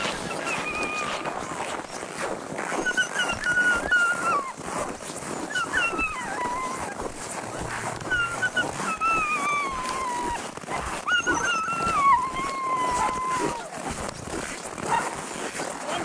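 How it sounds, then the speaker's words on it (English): Sled dogs at the start of a dog sled run in Alaska, a chorus of excited yips, whines and barks from several dogs close by, continuous over outdoor noise, with people talking underneath. "Time to go dog sledding."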